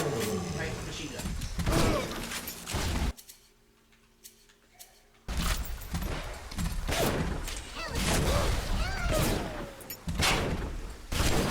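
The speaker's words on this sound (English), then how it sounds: "Right, machine gun." Machine gun fire in the BioShock video game comes in loud, rapid bursts with mechanical clatter, broken by a short quiet gap before firing resumes, with voices talking over the action.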